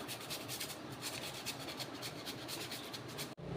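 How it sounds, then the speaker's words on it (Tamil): A peeled, washed potato is grated on a carrot grater with rapid, close, rhythmic scraping strokes that run continuously, then stop abruptly near the end. "இதேமாதிரி தோலை நல்லா துருவி எடுத்துக்கோங்க"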